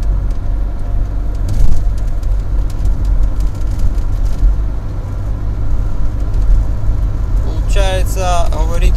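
A turbocharged car in sixth gear at about 90 km/h, its engine under full throttle giving a steady, loud low drone with road rumble, while a voice speaks over it near the end.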